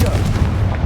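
A Confringo fire-spell blast in the Hogwarts Legacy video game lands as a loud, deep, rumbling boom that fills the whole short moment.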